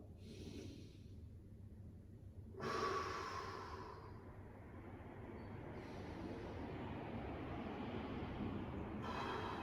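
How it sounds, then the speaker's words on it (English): Slow, deep breaths are drawn in through the nose and pushed out during a shoulder mobility stretch. The breathing is close and airy, with long, steady inhales and exhales, and no talking. "I'm going to take 6 big deep breaths."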